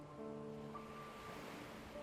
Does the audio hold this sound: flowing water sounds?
yes